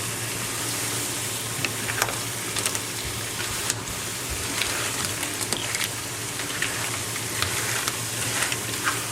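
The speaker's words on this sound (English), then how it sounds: "we are going to mix it slowly and coating everything so that they can get the flavors" Shrimp and scallops for a seafood paella stirred slowly in a hot pan, a steady close sizzle with scraping and clinking of the spoon throughout.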